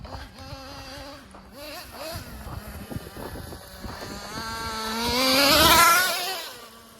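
A Traxxas Nitro Slash nitro RC car buzzes around with a high, raspy engine whine that rises and falls, then swells loudly as it passes close, with wind noise brushing the microphone.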